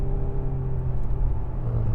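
A 2013 Audi A6 2.0 TDI S Line saloon drives with a steady low diesel engine hum and road rumble inside the cabin, the tone shifting slightly as it downshifts through paddle shifters.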